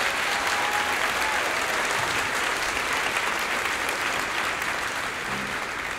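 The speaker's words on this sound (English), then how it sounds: "So can we give them another applause?" Applause from the audience at a beginner honor band concert, a broad, even roar of many hands clapping that stays at a steady level throughout.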